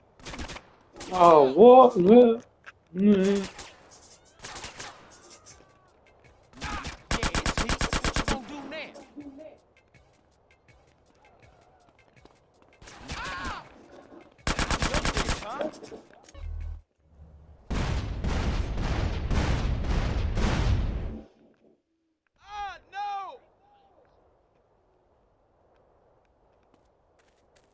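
Gunfire in Grand Theft Auto San Andreas comes in several bursts, some as rapid sustained fusillades and others as short cracks, separated by quiet gaps. Someone speaks briefly between the shots.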